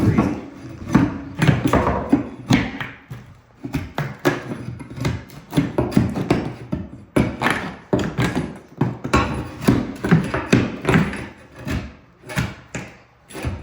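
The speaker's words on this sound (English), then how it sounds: "What kind of tool I'm using is this specific type of crowbar, it's actually made kind of specifically for this." A crowbar pries and taps through interior demolition of a bathroom and bedroom, giving repeated irregular knocks, wooden thuds and creaks close up, with no talk.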